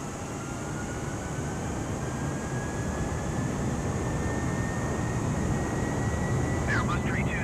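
Airbus A320 in Flight Simulator 2020 on a low, stalling approach, giving a steady, loud engine and airflow roar that holds throughout with no pauses.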